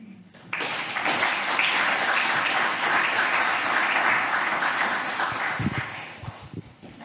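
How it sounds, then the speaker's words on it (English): A conference audience at a city museum event breaks into full applause for a speaker. It swells suddenly, holds dense and loud for several seconds, then thins into scattered claps. "I believe it was a well-deserved applause for you"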